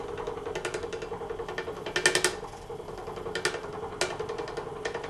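A scroll saw cuts through thick pressed wood for a Bible table project, a steady rapid mechanical chatter of the reciprocating blade with clattering bursts as the wood is fed and shifted, close and loud.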